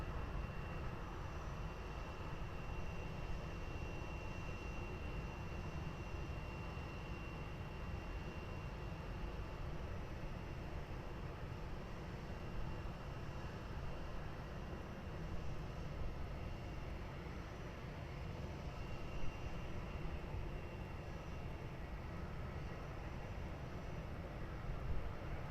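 A Turkish Airlines Airbus A321neo rolls for takeoff at Lisbon Airport, a steady broadband jet roar, distant and fairly faint, holding evenly throughout with no voices.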